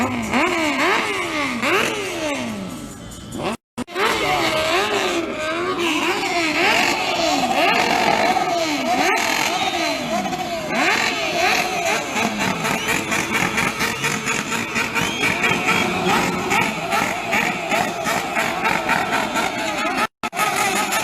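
A motorcycle engine revs repeatedly against its rev limiter, its pitch climbing and dropping in quick bursts, loud and close, with brief cut-outs between runs.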